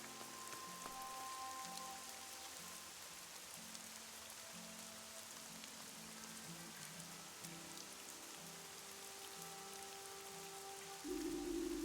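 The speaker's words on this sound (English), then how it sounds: "I told you it was going to rain." Steady rain falling on surfaces at night, a continuous even hiss with soft drops throughout, faint low tones underneath and a louder burst of noise near the end.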